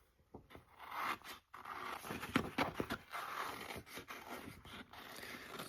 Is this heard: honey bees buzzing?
no